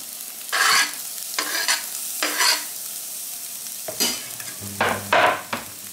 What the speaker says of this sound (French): on va laisser ça revenir tranquillement